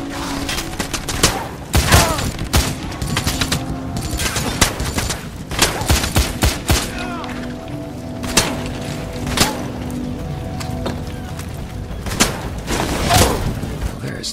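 Rapid gunfire exchange in the shooter game Wanted: Weapons of Fate, with repeated sharp shots and booming bursts scattered across the scene, loud and close, over a steady low game backdrop.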